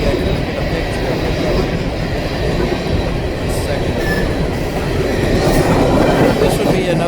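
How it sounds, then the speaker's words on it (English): A coal train rumbles past steadily at close range, a dense continuous roar of rolling freight cars with faint metallic squeals and clicks over the noise, holding a constant loudness throughout. "This would be another one of those coal trains"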